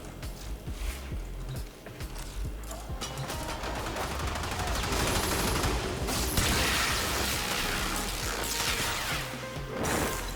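An Amprex weapon firing thermite rounds in the Warframe video game, a dense rapid crackling stream of electric gunfire with sharp bursts, loud and continuous throughout, with no talking.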